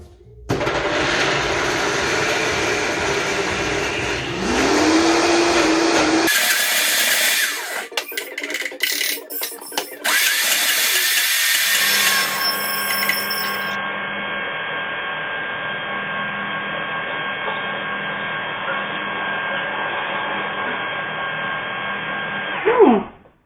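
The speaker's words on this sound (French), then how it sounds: "Ok, on va mixer." A blender runs in a kitchen, mixing a homemade hazelnut spread, with a loud steady whir that shifts pitch and stutters as the load changes, then settles into a long even drone before cutting off.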